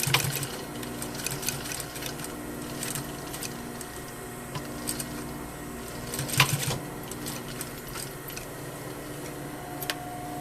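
A sewing machine stitches steadily along a handkerchief pocket, its fast, even mechanical whirr and ticking running throughout at close range, with a few louder clunks midway and no talk.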